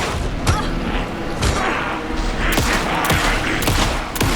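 Gunfire in the video game Alan Wake II, loud sharp shots going off every half second or so in a steady volley, close and booming over a rumbling background.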